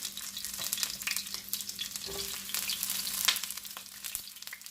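Broccoli being added to a hot pan and frying: a close sizzle with scattered crackles and pops, plus stirring and scraping in the pan, with no talking.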